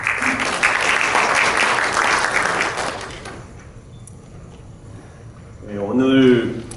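Applause at a rural development project briefing in Gurye, a few seconds of clapping that fades, followed by a voice starting to speak.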